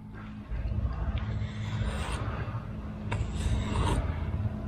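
Blade trimming half-set fairing compound on a boat hull around a through-hull transducer, a steady close rasping scrape with a low hum beneath and two brighter strokes partway through.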